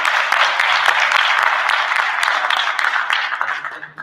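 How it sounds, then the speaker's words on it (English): Audience applause honoring veterans at a school board meeting, a dense steady clapping that holds loud throughout and thins out toward the end. "So let's give a round of applause for our veterans."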